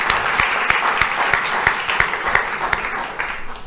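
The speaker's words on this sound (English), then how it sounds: "Give them a round of applause" Steady applause from an audience at an awards ceremony, many hands clapping continuously for a few seconds with a few sharper claps standing out.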